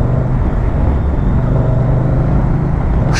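A 2023 Moto Guzzi V100 Mandello motorcycle fitted with a non-original exhaust rumbles steadily at a constant, loud engine drone from riding, with no speech over it.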